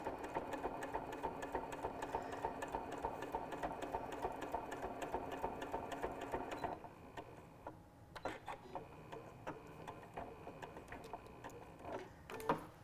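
A sewing machine stitching through a thick quilt sandwich seam on a scrappy pouch: a steady rapid mechanical whir for several seconds, then it stops and gives a few quieter bursts and clicks, faint and close.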